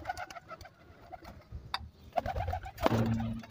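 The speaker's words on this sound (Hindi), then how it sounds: "सारे कबूतर पानी के ऊपर आ चुके हैं।" Pigeons coo softly near their water, low throaty calls scattered among faint shuffling and small knocks, with a fuller, louder coo near the end.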